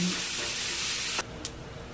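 Food sizzling steadily in hot oil in a home kitchen pan, a continuous bright hiss that drops away sharply near the end, followed by a faint clink.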